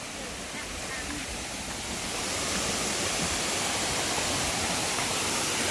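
Pha Vang waterfall in Samtai district, Houaphanh province, Laos, a steady, dense roar of falling water that swells slightly and then holds loud and constant throughout.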